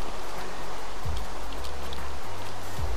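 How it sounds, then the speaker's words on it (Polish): Rain falls in a video game as a steady, dense hiss of droplets throughout, loud and continuous, with low tonal game sounds shifting underneath. "O ja, deszczek pada."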